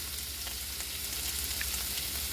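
Pieces of pork bung frying in a pan, a dense, steady sizzle with faint crackles, close and continuous with no talking.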